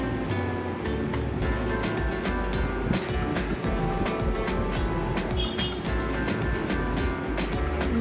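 Water is poured into a hot pan of frying dal, producing a loud, steady sizzling hiss and bubbling roar that continues without a break.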